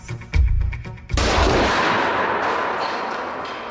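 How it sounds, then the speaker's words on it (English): A debris cannon fires a tornado-simulating missile into a door: a few sharp mechanical clicks and thumps, then a loud, near blast that rolls into a long roaring hiss slowly fading over several seconds, with no voices. "The debris cannon demonstrates that many doors offer little or no protection from tornado-driven projectiles."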